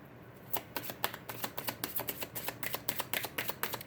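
Rapid riffling clicks of playing cards being shuffled, a dense run of crisp snaps close by, with no talking.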